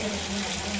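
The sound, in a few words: water flowing from cow-shaped spout onto Shiva lingam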